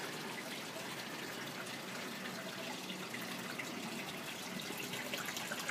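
Water swirling in a vortex within a bioponics fish-and-plant system, a steady, even gushing and trickling rush that holds constant throughout at a moderate level with no talk.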